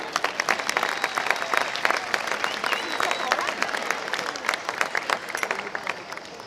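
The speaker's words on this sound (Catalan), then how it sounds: "Un aplaudiment per ells, sisplau." An outdoor festival crowd at a giants gathering in Puig-reig applauds the capgrossos dancers, with many hands clapping in a lively, uneven patter that carries steadily from start to finish.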